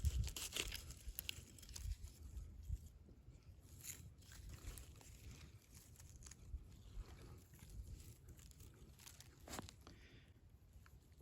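Plastic bag crinkling and rustling as picked meadow mushrooms are dropped in outdoors, a steady quiet rustle with occasional sharper crackles and soft footstep-like thuds, no talking.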